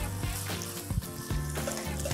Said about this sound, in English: I'm taking the spaghetti directly here now and tossing it straight in here